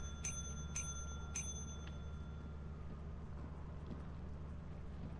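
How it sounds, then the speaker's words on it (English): A ship's bell in the Lethal Company video game is struck four times in quick succession, the last hit softer, each clear chime fading fast over a quiet low hum. "Why would you ring the bell that many times?"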